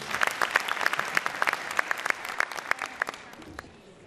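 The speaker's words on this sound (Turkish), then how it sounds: "Güçlü alkışlarınızla" A concert audience at a Turkish classical music ensemble's centenary concert bursts into applause, dense, rapid clapping that stays fairly even and then thins out toward the end.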